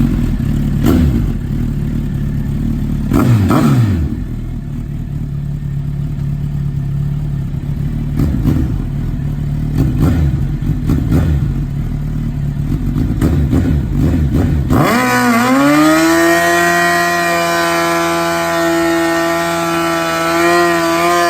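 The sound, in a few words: motorcycle burnout with Brock's Performance exhaust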